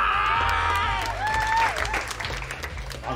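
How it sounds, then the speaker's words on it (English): Television audience applauding to vote for a contestant, a sustained crowd clap under a host's loud, drawn-out exclamation and tonal voice lines, with some cheering. "Now let's have your votes by way of applause"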